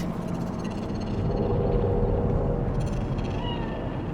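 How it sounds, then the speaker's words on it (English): A cat meows in the Cyberpunk 2077 video game city streets, faint and short against a loud constant rumble of ambient city noise, without voices. "Fine-looking feline. Thought they'd all disappeared from the city."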